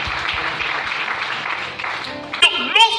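A church congregation applauds and cheers in a steady, dense wash of clapping that lasts a couple of seconds, then fades as a voice begins speaking over the tail end.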